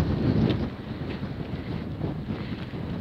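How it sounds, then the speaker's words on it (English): Loud wind buffeting the microphone in a constant low roar with gusty swells, no voices present, on a hillside hiking trail near Dowry Reservoir on the Pennine Way. "Wow, it is that windy."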